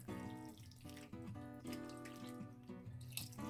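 Liquid, including apple juice, is poured from a short height into the broth of a pork pot roast with root vegetables and apples, a soft continuous trickle and splash heard faintly beneath steady background music.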